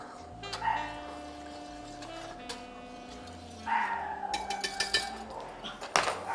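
A small dog barks in quick yappy bursts at a distance, loud and excited, while steady tonal music and kitchen clatter continue underneath.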